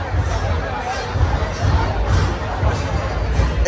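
Dense crowd hubbub at the Diwali Pahat morning celebration on Phadke Road, a steady wash of many overlapping voices and street noise throughout, close and fairly loud with no single voice standing out.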